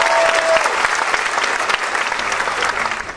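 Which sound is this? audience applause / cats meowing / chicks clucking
audience applause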